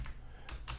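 A few quick keystrokes on a computer keyboard as a commit comment is typed, three light clicks close up over faint background hum.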